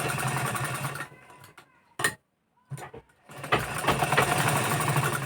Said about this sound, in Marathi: इथून शिलाई घ्यायची